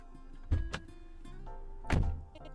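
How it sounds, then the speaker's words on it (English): A car door thuds shut in a Spirit Driver visual novel, with a softer clunk followed by a heavier slam over faint background music and no talking. "He rushes into the passenger cabin, slamming the door shut."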